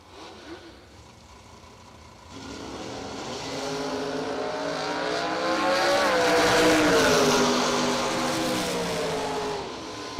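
Drag race cars, a Camaro among them, roar down the strip in bracket racing, engine note rising and swelling loud as they accelerate past, then holding at a sustained high drone.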